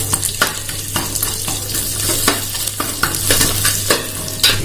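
Onions and green chilies dropped into hot oil with mustard seeds and cumin, crackling and sizzling loudly up close while a utensil scrapes and stirs the pan in repeated strokes.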